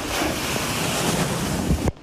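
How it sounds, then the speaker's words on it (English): Floodwater from Hurricane Helene gushes down a collapsing, rain-soaked hillside in a loud, constant roaring rush with wind buffeting the microphone, cutting off abruptly near the end. "Gushing water as a rain-soaked hillside gives way, picking up speed and picking up anything in its way."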